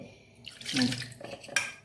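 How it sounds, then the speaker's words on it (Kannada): Water pours into a mixer jar holding banana dosa batter, a short splashing stream lasting about a second, close by, with no voices. "ಇದಕ್ಕೆ ಸ್ವಲ್ಪ ಮಿಕ್ಸಿಗೆ ನೀರು ಹಾಕ್ಕೊಳ್ತೇನೆ"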